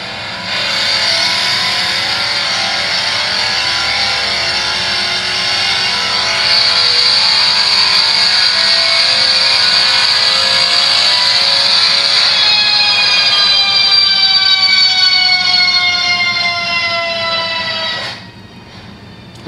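A supercharged Mercedes M156 V8 on a dyno winds up in a long, loud pull, its rising supercharger whine and engine howl climbing steadily before stopping abruptly, heard from a replayed recording without talk.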